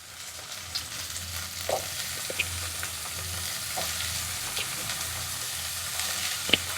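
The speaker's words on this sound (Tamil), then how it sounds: "இப்போ காராமணியை சேர்த்து நல்லா வதக்கிக்கலாம்" Chopped karamani (cowpea beans) sautéing in a pan, a steady soft frying sizzle with occasional stirring clicks and scrapes, no talking.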